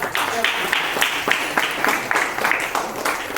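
An audience at a full-moon puja at the Shankara Math in Hiriyur claps in steady, rippling applause for a few seconds, with some voices mixed in.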